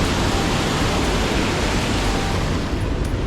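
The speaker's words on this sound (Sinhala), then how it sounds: "දැන් සොරෝව ඇරලා තියෙන්නේ. පේනවා ඉතින් වතුර පාර කොච්චර වතුර පාරක් යනවද කියලා." Water rushing through an opened sluice gate, a dense, loud, unbroken roar of torrent that stays constant from start to finish.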